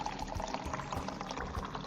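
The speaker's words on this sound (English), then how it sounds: "fill the remaining flask with distilled water exactly to a 1 liter mark" Distilled water poured steadily into a laboratory volumetric flask up to the one-liter mark, a continuous faint rushing, splashing fill with no voices.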